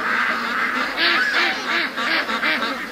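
Ducks quacking in a run of repeated nasal calls, close and clear, with a faint rustle behind.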